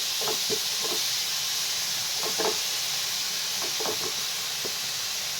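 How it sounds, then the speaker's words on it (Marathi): Tomatoes sauté in a pan for a protein mushroom soup, a constant loud sizzling hiss with scattered soft knocks and stirring clatters, close and without talk. "आणि टोमॅटो टाकूया। मस्तपैकी परतून घ्यायचं आहे।"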